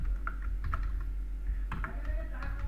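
A message is typed on a computer keyboard, with quick irregular key clicks close up over a low steady hum, and no voice heard.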